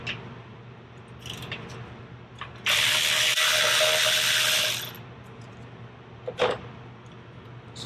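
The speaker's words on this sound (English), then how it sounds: "I'm going to take the caliper bolts off." A ratchet works on the brake caliper bolts of a 2009 Yamaha V Star 650, with a burst of rapid close clicking lasting about two seconds between quieter handling knocks, no talking.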